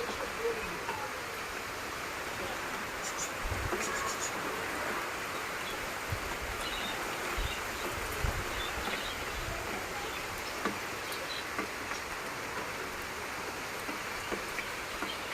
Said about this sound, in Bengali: বৃষ্টিও হচ্ছে